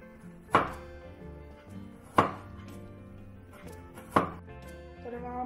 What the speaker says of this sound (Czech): Teď si nařežeme na plátky ty česneky.